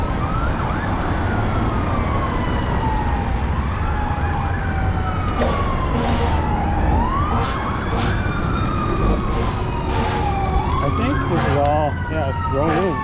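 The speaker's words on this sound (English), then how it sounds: "I hear more sirens. I better get that fire truck's coming" Fire truck siren on a Florida trail crossing near McMullen Booth Road, wailing up and down repeatedly, fairly close, with horn-like blasts and traffic rumble underneath, steady loud throughout.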